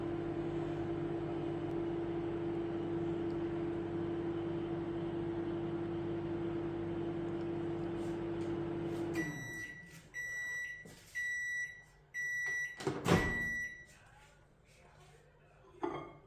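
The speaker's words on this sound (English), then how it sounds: "the microwave is not sparking now, it's warming up" A microwave oven, repaired with a replacement magnetron and no longer sparking, hums steadily for several seconds while heating a cup of water, then shuts off, followed by a series of short electronic beeps and some clattering.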